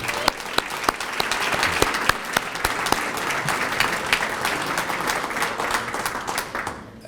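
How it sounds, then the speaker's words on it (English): A crowd at a community breakfast meeting applauds the township mayor after her State of the Township address, with steady dense clapping and sharp individual claps standing out across about seven seconds before it tapers off. "Let's give her a round of applause."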